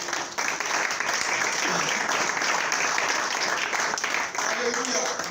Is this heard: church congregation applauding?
yes